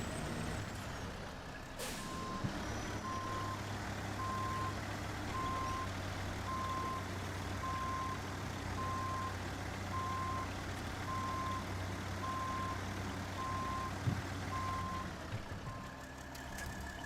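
A truck hauling a trailer in the SnowRunner video game sounds a steady, evenly spaced reversing beep over a low idling engine hum, with an air brake hiss near the start.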